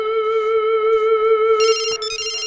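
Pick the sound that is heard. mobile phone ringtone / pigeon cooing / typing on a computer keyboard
mobile phone ringtone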